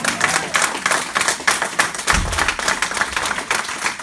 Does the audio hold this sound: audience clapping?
yes